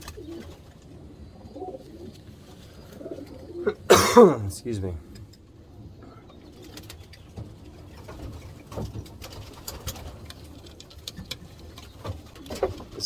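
Racing pigeons coo and rustle nearby, with soft patter throughout and one louder burst of wing flutter midway; someone says a brief word over them.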